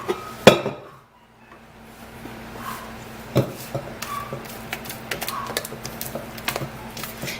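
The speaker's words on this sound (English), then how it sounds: "I'm going to give it another quick mix." Carrot cake batter being stirred in a bowl, with a sharp utensil knock near the start, then a steady run of soft scraping and tapping strokes close by, no talking.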